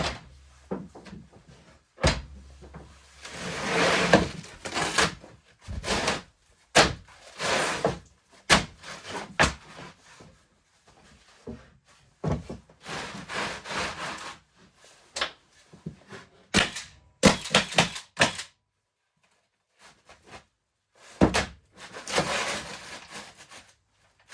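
Cordless roofing nailers, a Metabo HPT NV1845DA and a Milwaukee M18 2909-20, firing nails in a string of sharp close thunks and bangs at irregular intervals, with handling noise between shots and no talking.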